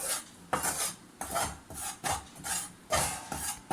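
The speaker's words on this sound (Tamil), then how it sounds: "நல்லா இப்படி மிக்ஸ் பண்ணி விட்டுக்கிட்டே இருந்து அந்த மாவு வந்து நல்லா வறுபடணும்" Flour is stirred and dry-roasted in a pan for thattu murukku, giving rhythmic gritty scraping strokes, roughly two per second, close and steady with no talk.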